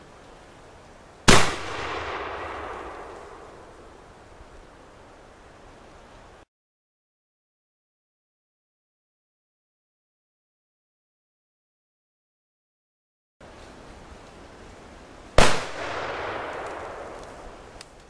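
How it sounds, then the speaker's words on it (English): Two loud, sharp gunshots fired into a tree for ballistic trimming of a widow maker, each a single crack with a decaying outdoor tail, spaced well apart by a stretch of silence. "I'm shooting it so that there's another tree behind it to catch the ball as it does"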